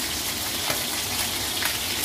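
Food sautéing in a pan while salmon is cooked, giving a steady broadband sizzle and hiss with brief stirring scrapes, close and continuous with no talk.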